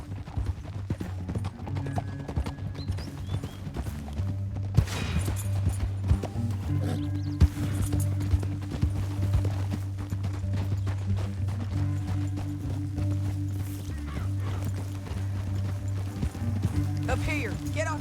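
Horse hooves clip-clopping at speed in Red Dead Redemption 2, a steady rhythmic run with an occasional whinny, set under a constant low droning score and a voice speaking.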